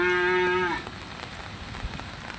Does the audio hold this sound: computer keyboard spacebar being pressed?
no